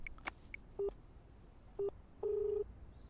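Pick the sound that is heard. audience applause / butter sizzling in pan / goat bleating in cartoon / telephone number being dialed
telephone number being dialed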